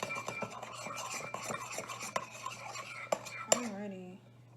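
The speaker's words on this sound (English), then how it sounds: "So I'm gonna use and just really get into stirring it." A spoon and spatula stirring a mixture in a bowl during a children's Sunday school activity, giving steady scraping and clinking strokes that stop abruptly near the end, with faint voices under them.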